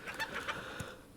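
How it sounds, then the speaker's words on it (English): A chicken clucks in the video game Super Auto Pets, a short series of close, quick cackling notes followed by one lower cluck, with no voices. "I had a dromedary chain going, and I found a chicken"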